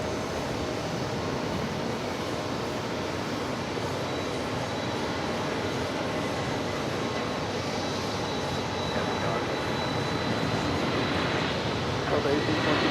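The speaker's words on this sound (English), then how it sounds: "we've got Ita, the A330-200, heading back to Rome. Next takeoff at 22 right" An ITA Airways Airbus A330-200 departing JFK bound for Rome, a steady broad engine roar at a distance that swells slightly toward the end, with a radio voice talking over it.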